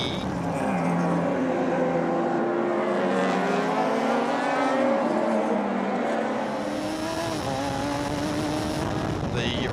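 Dave Crampton's number 3 Vantage Freight race car charging during a motor race, a steady loud engine roar with shifting pitch as it passes, under a commentator's voice.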